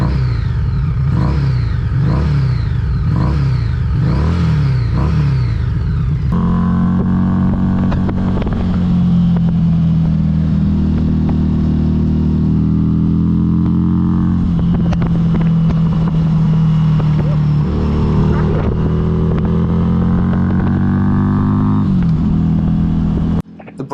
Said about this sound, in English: I also really liked the Reinhardt exhaust that came with the bike, which is an optional extra.